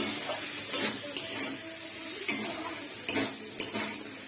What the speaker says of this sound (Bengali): আর এখানে আলুটা সুন্দর করে ফ্রাই করছে মশলা টশলা দেবে টমেটো দিয়েছে